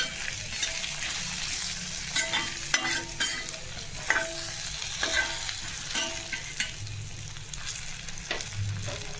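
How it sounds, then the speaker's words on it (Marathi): Eggplant pieces sizzle in hot oil with a little turmeric while a spoon stirs them, giving a steady frying hiss broken by repeated scraping strokes against the pan, close and alone without any talk. "वांगी छान असं तेलात फ्राय झाले आहेत छान असं फ्राय करायचं आहे तेलात"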